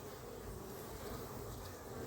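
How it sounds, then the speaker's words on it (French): Honeybees flying calmly around a hive colony in the morning or evening, giving a steady, dense buzzing drone that holds at an even level throughout with no talk. "Les abeilles volent tranquillement,"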